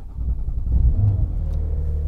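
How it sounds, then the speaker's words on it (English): A Porsche 992 with PDK gearbox starts up and settles into a steady low engine rumble, loud and close, with a brief swell around the start and no voices. "So if we start the car up,"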